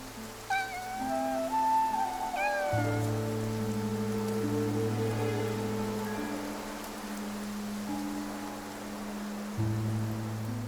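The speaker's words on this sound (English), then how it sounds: "Nikki, it looks like it's going to rain" Steady rain in the video game Infinity Nikki hisses softly throughout while sustained musical tones play, and a cat meows a few times early on.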